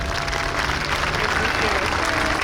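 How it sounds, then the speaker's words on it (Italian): Dense applause from an air show audience, steady and sustained throughout, with a broad wash of clapping and some crowd murmur mixed in. "e applauso da parte vostra."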